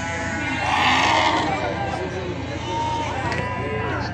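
Lambs bleat repeatedly at a busy sheep market in Füzuli, their cries rising over continuous crowd chatter and people talking nearby.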